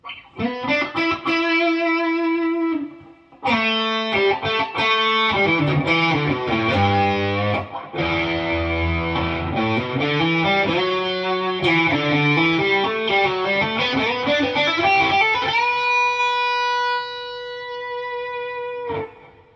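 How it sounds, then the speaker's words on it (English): A heavily distorted Gretsch 5420 electric guitar with a Bigsby plays sustained chords and bending notes, loud and thick, with a long held chord ringing out at the end. "this guitar can handle distorted tones"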